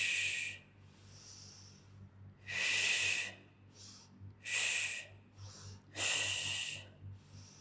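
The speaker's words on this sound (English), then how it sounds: "So it's like shh, shh, shh, shh, shh, shh" Forceful shh exhales during a reformer Pilates workout, three loud hissing breaths and several softer ones in a steady rhythm over a low background hum, each pushed out through the teeth.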